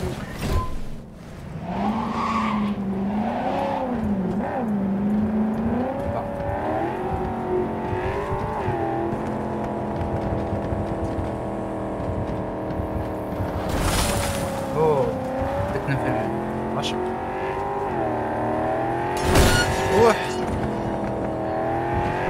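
A car drives in the Cyberpunk video game, its engine droning loudly and rising and falling in pitch as it revs and shifts for the whole stretch, with occasional bursts and a voice talking over it.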